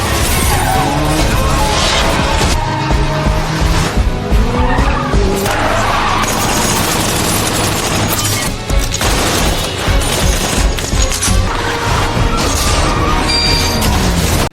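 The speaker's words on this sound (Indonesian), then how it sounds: "mengejarnya dan terjadilah aksi kejar-kejaran" A movie car chase through the streets of Lisbon's city centre, loud and close: long, repeated tire squeals and skids over a roaring engine, broken by sharp bangs and crash-like impacts throughout.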